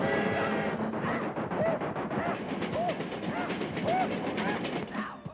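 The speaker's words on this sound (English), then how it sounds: "le train s'en vient, il arrive" Approaching train rumbling with steady clatter and rising whistle-like squeals, set under a dramatic broadcast with background noise throughout.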